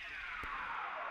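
A falling synth sound effect from a FL Studio recreation of the PlayStation 2 intro, a bright, airy sweep that glides steadily downward with a soft thump partway through.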